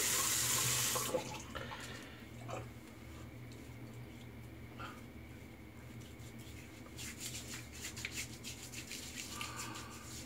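A bathroom faucet runs loudly at first, then water splashes and rubs as hands wet a face before shaving, a near, steady wash of sound with intermittent patting and no speech.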